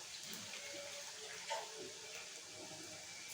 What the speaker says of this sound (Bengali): এটাকে একটুখানি জল দিয়ে আমি কষাবো